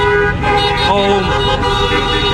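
Car horns honking at a roadside protest where a man holds a sign asking drivers to honk, sustained loud tooting from passing cars mixed with traffic noise and people talking nearby.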